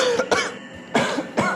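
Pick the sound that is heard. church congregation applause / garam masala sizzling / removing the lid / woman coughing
woman coughing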